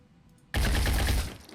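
A heavy weapon fires in the turn-based video game Phoenix Point, bursting in abruptly after near silence as a loud, dense roaring barrage that holds for under a second before tailing off.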